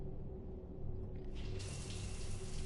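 Shower water in Mass Effect 3 turns on and runs steadily, a close, continuous hiss that swells and brightens partway through and keeps going alone.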